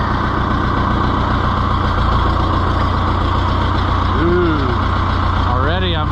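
An Oliver 1365 tractor engine idles steadily and loudly up close, a low, constant rumble with a couple of brief squeaks near the end.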